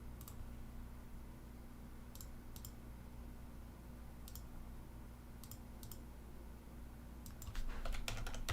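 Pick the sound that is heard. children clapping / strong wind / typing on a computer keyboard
typing on a computer keyboard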